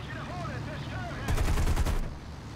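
Burst of machine-gun fire from an aircraft in War Thunder, loaded with ammunition that has no tracers, a rapid rattling volley lasting under a second over steady engine drone.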